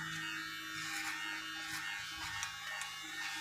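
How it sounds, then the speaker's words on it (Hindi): An electric hair trimmer buzzes steadily and close up while cutting and shaping hair for a medium one-side hairstyle, with small shifts in tone as it moves through the hair. "हेयर ट्रिमर से बालों को अच्छी तरह से सेटिंग कर रहे हैं"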